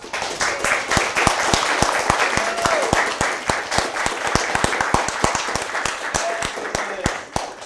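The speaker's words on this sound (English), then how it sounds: "Congratulations, ladies and gentlemen. Big round of applause." Audience applause for hackathon winners at a student pitch finals event, with dense clapping and a few loud, distinct nearby claps standing out in a regular rhythm throughout.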